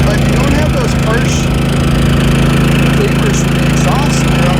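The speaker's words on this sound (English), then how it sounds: "this thing's pretty quiet. It's standing there when it's running on the propane." A Firman generator running on propane, its engine droning steadily and loudly close by with a constant low hum throughout and no break.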